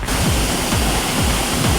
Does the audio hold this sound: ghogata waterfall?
yes